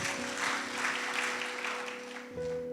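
Church congregation applauding during a sermon, a steady wash of clapping heard from a distance, with sustained organ or keyboard notes underneath and a brief shift in the music near the end.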